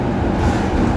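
A metro train in Malaysia gives off a loud, steady low rumble and rolling roar, as if heard from inside or right beside the carriage, with no talk over it.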